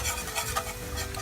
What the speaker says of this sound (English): I'm going to use my whisk.